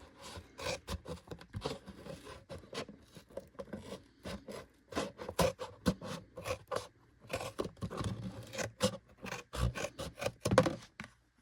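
Scissors snip through a cleaned, rinsed plastic milk container along a marked line, a close, steady series of crisp cuts and rustling plastic scrapes with no talk over it.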